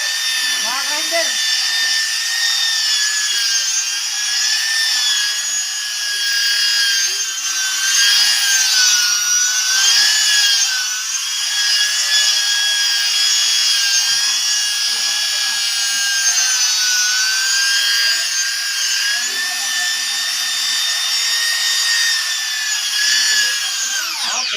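Grinder sanding a Solflex synthetic solid surface island table, a loud continuous high-pitched whine with slight pitch wavering as the tool moves across the surface, voices faintly audible underneath.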